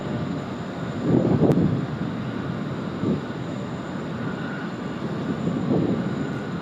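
An airliner rolls out along the runway after landing at Sydney Airport, a steady broad roar of engines and wheels heard at a distance, swelling slightly in a few places.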